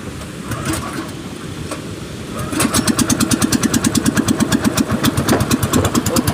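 A Honda engine on a boat catches and settles into a loud, close, rapid rhythmic chugging after a few seconds of quieter rumbling, with no talking.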